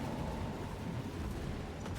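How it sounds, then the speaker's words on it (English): Explosion in a Shelby Grand Prix qualifier video game race, a dense continuous low rumble with broad noise held steady throughout, loud and close with no pauses. "Out the gate, we've got one explosion."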